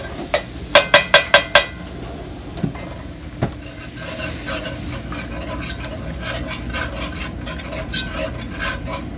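A flour gravy roux being stirred in a pan for mashed potatoes, with a quick run of five sharp scrapes early on, then softer intermittent stirring and faint sizzling continuing close by.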